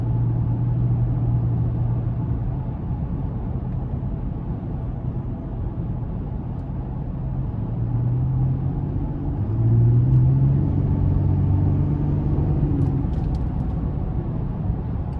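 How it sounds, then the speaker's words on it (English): A 2019 GMC Canyon Denali's 3.6 V6 engine hums steadily from inside the cab as the truck accelerates, a low droning tone that climbs in pitch and swells slightly toward the end. "I love just the overall sound you get from the engine bay."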